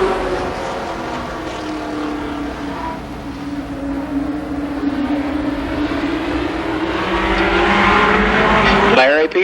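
Race cars howl around an oval speedway, a loud, continuous engine drone that swells and pitches as the field passes, with a commentator talking over the engine noise.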